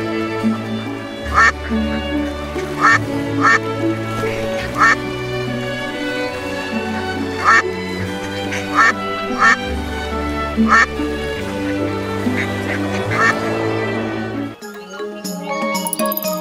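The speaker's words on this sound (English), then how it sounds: "Duck begins with the letter D." A duck quacking repeatedly in short bursts over classical music, the calls recurring at irregular intervals and fairly prominent in the mix.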